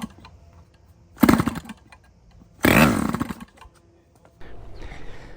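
A DLE-30 gas engine on a test run after carburetor adjustments, firing in two short sputtering bursts that pop and die out, loud and close, with quieter mechanical rustling between and after.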